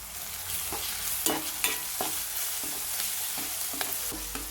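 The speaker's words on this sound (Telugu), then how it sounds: "బాగా ఎగనివ్వాలి అల్లం వెల్లుల్లి పేస్ట్ ఎగిన కదండి" Ginger garlic paste fries in a pan for a potato and pea curry, with a steady close sizzle broken by the scrape and clatter of a spoon stirring at irregular intervals.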